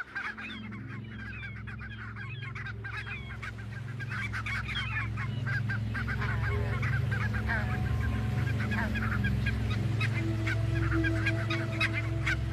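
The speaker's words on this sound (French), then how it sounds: "Pourtant, les bernaches nonnettes sont là." A dense flock of barnacle geese with their young honks continuously, many overlapping calls building from moderate to louder and closer, with a steady low rumble of wind or water underneath.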